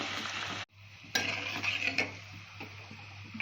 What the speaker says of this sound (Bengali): এখানে গরম মশলা ফোড়নে দিয়ে আলুগুলোকে ভালো করে ভেজে নিচ্ছি